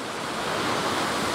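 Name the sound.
waterfall in Wales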